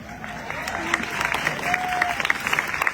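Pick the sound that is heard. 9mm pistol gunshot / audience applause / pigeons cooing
audience applause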